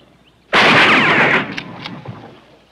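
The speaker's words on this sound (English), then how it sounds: "Just two rounds left, Ned. Just one more to waste." A gunshot in a 1957 western film, a single loud blast that booms and rolls off, followed by a few faint clicks.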